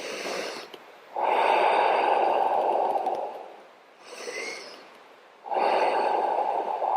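Slow, deep breaths during a yoga pose, each long airy inhale or exhale close and loud, with gaps of quiet between them and no speech.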